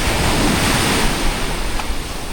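Strong wind buffets the microphone on the beach at Mui Ne, a loud, unbroken roar of rushing air and surf noise with no talk over it.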